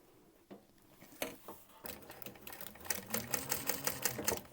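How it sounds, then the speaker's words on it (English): Sewing machine stitching a quarter-inch seam on a Small Louie waistpack, running in quick bursts of rapid mechanical chatter after a few soft handling knocks, close and fairly loud. "we're just going to sew at 1/4 inch all of that together for now"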